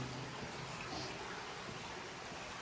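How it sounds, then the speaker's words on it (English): Water in a stream rushes through a long roadway tunnel, a soft, continuous wash of flowing water with an echoing, airy quality, steady and without talking. "You can still hear the water"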